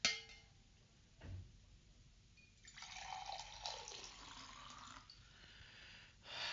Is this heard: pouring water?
yes